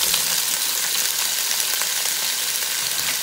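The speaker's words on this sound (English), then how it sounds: "Put the potatoes in there and get them started." Potatoes sizzling as they sauté in a Power XL cooker, a steady, dense frying hiss that runs continuously without pause.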